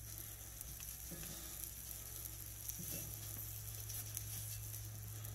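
Shrimp cakes fry in butter in a pan, giving a steady, even sizzle with a few faint clicks and taps, close and continuous with no voices.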